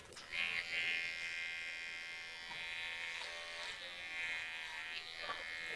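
An electric hair clipper buzzes steadily close by while cutting hair, its whine wavering slightly in pitch as it moves, with a few brief clicks and touches along the way.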